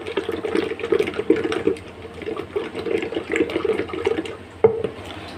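Water trickles and splashes in small pours into a bowl of gram flour batter for kofta curry, with intermittent liquid gurgles and a clink near the end, close up and without talk.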